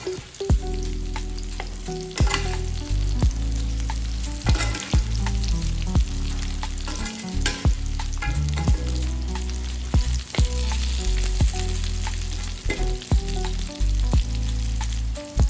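Pieces of pork hit a hot pan and fry for a Filipino perdis-style dish, giving a loud, continuous sizzle broken by frequent scraping stirs and clacks of a utensil.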